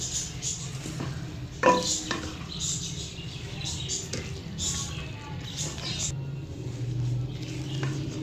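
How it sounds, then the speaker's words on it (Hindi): A spoon scrapes and clinks against a pan as potatoes and mogri are stirred together, with irregular knocks over a soft, low sizzle. "मोगरे ऐड करने के बाद पहले मैं इसे अच्छे से मिक्स कर लूंगी"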